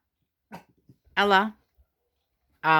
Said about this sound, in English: There's lots of people walking past and my dogs don't like it.